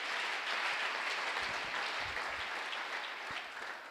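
A church congregation applauds in praise of the Lord, a dense steady wash of clapping from many hands that fades slightly toward the end.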